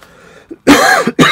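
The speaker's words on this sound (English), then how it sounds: "I'm sorry if I coughed on the camera here on the video" A person with a cold gives a small throat-clearing grunt, then one loud harsh cough up close, followed by the start of a second cough.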